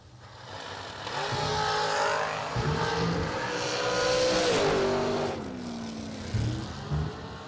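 A Mopar wedge-powered S&W chassis dragster makes a drag-strip run, its engine roaring loud and sustained with shifting pitch over several seconds, no talk.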